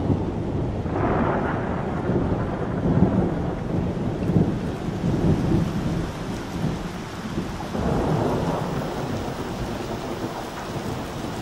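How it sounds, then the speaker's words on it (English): Thunderstorm with heavy rain pouring down steadily, low rumbles of thunder rolling through and swelling in waves around the middle and near the end, with no voices. "The burrows are about to be flooded by the rains."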